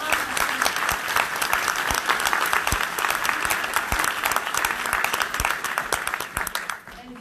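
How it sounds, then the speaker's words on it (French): Warm, dense applause from a conference audience at a spiritual healing talk, sustained and fairly loud for several seconds before easing off, with some voices mixed in. "On peut l'applaudir."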